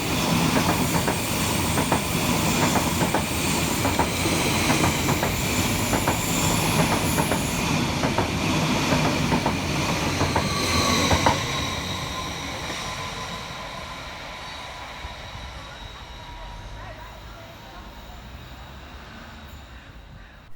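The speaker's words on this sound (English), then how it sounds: "Rounding the corner for Greater Anglia is 745-109, working 1 Bravo 57 from Stamford Airport through to London Liverpool Street." A Greater Anglia Class 745 electric train rounds a curve at Stamford Hill, its wheels squealing loudly and steadily with rhythmic clickety-clack. The roar fades gradually as it passes away, with no talk.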